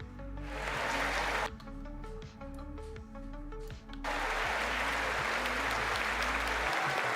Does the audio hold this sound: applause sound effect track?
yes